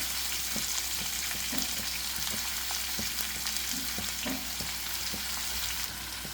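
Long sliced onions fry in a pan for an Indian onion thokku, with a continuous close sizzle broken by small pops and stirring clicks throughout and no talk.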